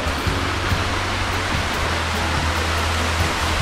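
Small waterfall at Shanka Waterfall in the Pingtung mountains, pouring into a stream: a steady, close rush of falling water, constant and unbroken, with no voices.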